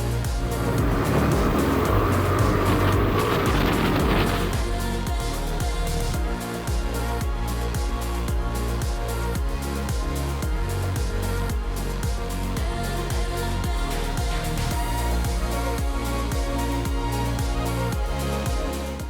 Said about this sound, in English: we've just done this little bit of gravel and the bike feels really nice